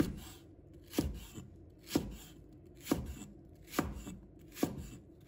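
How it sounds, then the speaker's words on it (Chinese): A knife slices through a section of leek onto a cutting board in six evenly spaced, crisp thuds about one second apart, close and fairly quiet. "再准备1段大葱，把它切成片。"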